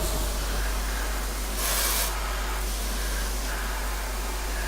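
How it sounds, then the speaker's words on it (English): Pressure washer on high pressure rinse sends out a constant loud hiss of spray, briefly swelling brighter in the middle as the jet sweeps across a surface, with no talk. "get that pressure washer and high pressure rinse this stuff down here"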